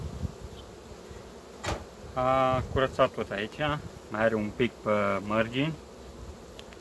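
Honeybees hum in an opened hive where a new bee has just emerged, a soft continuous buzz under someone speaking close by at length.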